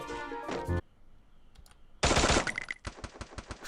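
Gunfire in the Free Fire video game: an opening burst, a quiet gap, then a loud rapid automatic volley followed by evenly spaced single shots, crisp and close.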